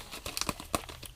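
A taped plastic bag of Thailand red clay gold pay dirt is pulled open, giving short close crinkles and a sharp tearing rip in a brief burst.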